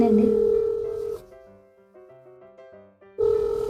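A phone call rings out as a melodic ringing tone of repeated pitched notes lasting about two seconds, with a voice speaking just before and just after it.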